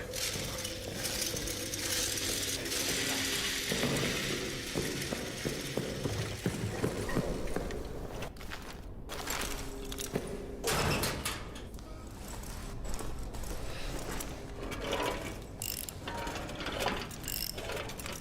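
Ratcheting, clicking wrench work on bolts in the prison area of the horror video game Mask of Amnesia, steady mechanical clanks and grinding over a constant ambient game background, fairly loud throughout.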